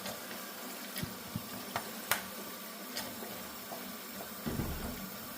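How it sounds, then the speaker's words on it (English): Hot water pours into a basin to make a soapy bath with dish soap for soaking polishing buffing pads, a steady close rush with a few light clicks and splashes and no voices. "Make us a nice soapy bath with some hot water."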